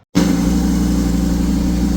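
A Lamborghini Huracan with gutted catalytic converters and a flame exhaust tune idles steadily and loudly up close, a deep continuous rumble with no other sounds over it.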